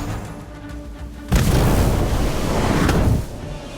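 A booming burst from the Fiendfire Incendio spell in the Harry Potter: Magic Awakened mobile game erupts suddenly after a quiet moment, a loud, roaring blast that rumbles steadily for nearly two seconds before cutting off.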